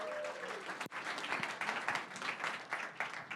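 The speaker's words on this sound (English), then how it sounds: "you are like the least applauding team ever. Applaud!" A room full of startup pitch-event attendees claps in sustained applause, steady and fairly close, with a brief break before the clapping resumes.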